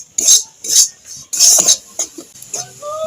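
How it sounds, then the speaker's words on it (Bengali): Semolina with a pinch of salt dry-roasting in a pan for a soft milk sweet: short, uneven bursts of a spatula scraping and stirring against metal, with brief pauses between strokes. "এবার আমি ভেজে নেব যাতে সুজির কাঁচা গন্ধটা চলে যায়"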